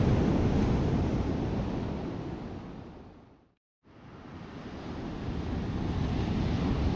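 Big waves break on the black-sand shore of Pantai Bakung in Pacitan, a loud, close wash of surf mixed with wind buffeting the microphone. The sound drops out briefly midway, then the roar returns.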